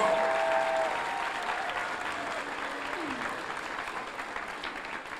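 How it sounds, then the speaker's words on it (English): An audience applauds teachers at an elementary school ribbon-cutting ceremony, with steady, dense clapping that holds at an even level throughout and a brief tone sounding at the start. "Let's give them a round of applause"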